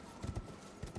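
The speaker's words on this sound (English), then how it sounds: "Can I summon Horsey?" A summoned horse gallops in a video game, with quick, soft clip-clop hoofbeats in uneven pairs, quiet and close.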